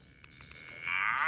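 An electronic moo call device sounding off at a cattle calving livestream, a sustained bovine-like tone rising in loudness toward the end after a couple of brief clicks.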